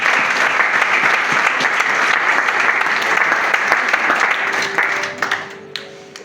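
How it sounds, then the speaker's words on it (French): A church congregation claps in a loud, thick wave of applause that thins out over the last two seconds while a soft sustained tone rises beneath it. "Est-ce qu'on peut acclamer le Seigneur?"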